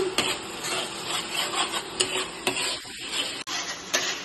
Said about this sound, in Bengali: পেঁয়াজ ভাজা হচ্ছে পেঁয়াজ